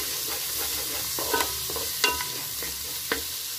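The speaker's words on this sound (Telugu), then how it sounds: "ఇప్పుడు 1 టీ స్పూన్ అల్లం వెల్లుల్లి పేస్టు వేస్తుంది" Ginger garlic paste fries in a pan with a steady, close sizzle, broken by a few sharp scrapes and taps of stirring; no one speaks.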